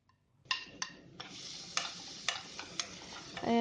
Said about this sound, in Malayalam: എന്നിട്ട് നന്നായിട്ടൊന്ന് വഴറ്റിയെടുക്കാം.